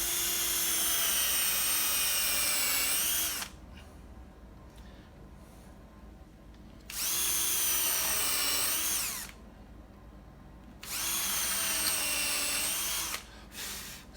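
A power drill bores holes into a wooden sawhorse, three loud close bursts of high whining motor that rise in pitch as the bit spins up. Quieter pauses fall between the bursts, and no one speaks.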